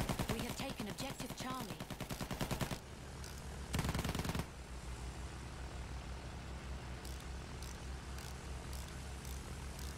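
Sustained machine gun fire from a landship tank in Battlefield 1, a dense rattling burst up front, then a brief louder roar, then continuous distant gunfire and battle noise for the rest.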